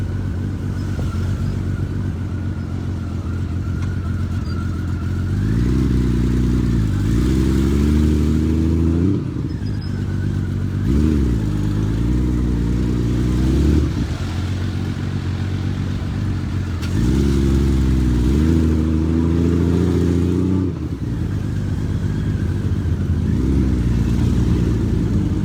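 A motorcycle weaving through Tokyo traffic, its engine revving up and easing off repeatedly in close, loud surges, with a constant hum of road and traffic around it.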